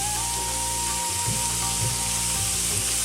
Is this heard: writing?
no